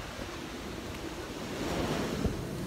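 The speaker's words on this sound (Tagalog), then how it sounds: "Sobrang gulo ng alon." Rough surf crashes and roars steadily, mixed with gusty wind buffeting the microphone, with no voices; ocean waves rough enough for surfing.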